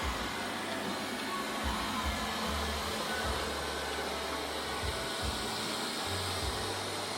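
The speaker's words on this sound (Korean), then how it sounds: "로봇 청소기 작동 시의 소음이 꽤 큰 편입니다." A Samsung robot vacuum cleaner running indoors gives a steady, loud motor whir with a broad airy rush, continuous throughout and close by, with faint low thumps underneath and nobody speaking.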